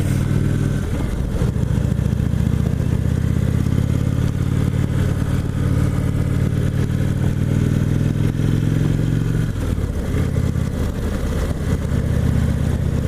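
A 2017 Indian Chieftain Limited motorcycle's engine drones loud and steady while riding, its low rumble mixed with heavy wind and road noise, with a slight shift in tone around ten seconds.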